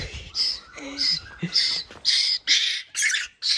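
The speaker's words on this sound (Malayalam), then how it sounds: "കാക്ക ഇവിടെ ഉണ്ട്." A crow caws again and again in short, harsh bursts at a steady rhythm, close by and loud, with a little household noise between the calls.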